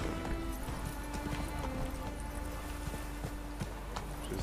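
Horse hooves galloping in The Witcher 3: Wild Hunt on the Skellige isles, a steady, busy clatter of hoofbeats running continuously under game music and ambience with no talk.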